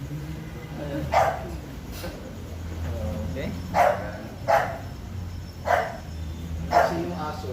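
A dog barks in a chiropractic clinic in Imus, Cavite, giving about five sharp, evenly spaced barks at close range over a steady background hum, while a person speaks briefly.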